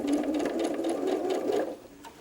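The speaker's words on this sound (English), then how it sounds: "Put them into your sewing machine," A sewing machine runs in a steady, fast whirring stitch for about two seconds, then stops.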